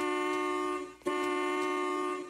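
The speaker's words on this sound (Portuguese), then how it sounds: "para de buzinar." A car horn blares in a long sustained honk, briefly breaks off, then sounds again just as loud and steady, close by with no talk over it.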